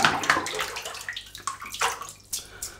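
Water splashes and swishes in bursts as a shaving brush is wetted and swirled, close and fairly loud with short gurgling splashes and pauses between them.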